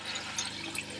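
An RV toilet being flushed during a leak check after repair, with a steady rush of running water filling the bowl throughout, moderately close and without talk.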